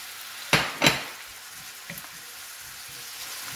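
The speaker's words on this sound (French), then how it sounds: "Donc là, on va faire revenir nos oignons." Red onions frying in oil for a vegetable tagine: two sharp clanks of a utensil against the pan, then a soft, steady sizzle with a few faint taps.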